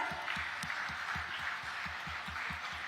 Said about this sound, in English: Can we all give a huge round of applause to them?